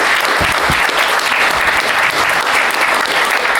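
A crowd at a comics convention panel claps steadily and loudly for a few seconds, dense even applause from a packed room.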